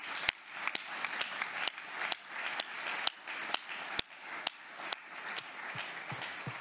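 An audience at an economic inclusion summit applauds Saïd Hamouche, a dense, sustained patter of many hands with a few sharp, close individual claps standing out, steady throughout.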